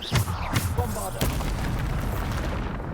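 The Bombarda spell in Hogwarts Legacy lands as a deep booming blast, followed by a couple of sharp bursts and then a rumbling tail, all close and heavy.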